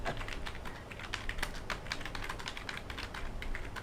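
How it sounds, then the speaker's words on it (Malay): Rapid, continuous computer keyboard typing, close and crisp, with a dense stream of light key clicks and taps in an ASMR style, heard alone with no voices. "Biasanya bunyi keyboard adalah benda yang paling relaxing."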